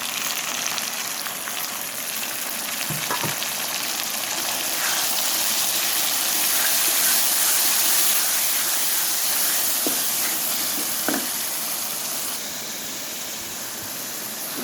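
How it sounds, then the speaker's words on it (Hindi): Chopped onions sizzle and crackle in hot oil in a pan for Indian dal palak, a steady loud hiss with occasional spatters and faint stirring clinks throughout. "प्याज को सिर्फ हल्का सा कलर चेंज होने तक ही हमने फ्राई करना था।"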